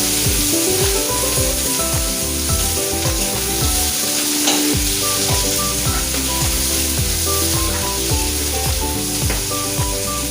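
Onions, green chillies and garlic frying in oil make a continuous close sizzle, broken by frequent metallic scrapes and clinks from stirring in the pan, and no one speaks.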